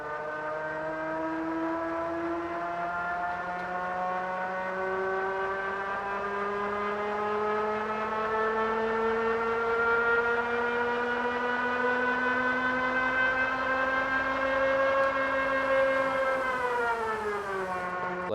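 A 1000-watt ebike motor whines under load, its pitch rising slowly and steadily for many seconds before dropping sharply near the end, loud and close with no talking.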